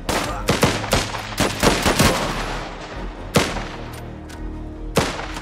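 Gunfire in the video game Last Train Home rings out as sharp, loud shots in irregular bursts, some single and some doubled, with quieter gaps and a low hum between them.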